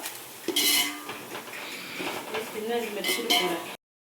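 Utensils clatter and scrape against a pot while biryani ingredients are sautéed to golden brown, with metallic clinks and stirring in bursts, fairly close, and a voice speaking intermittently over it.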